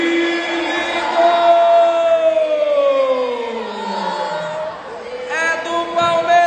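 A youth crowd erupts in loud, sustained cheering and whooping after Palmeiras score in a 2023 Alegrete futsal championship match against Independente, with rising and falling shouts and horn-like tones close by and continuous throughout.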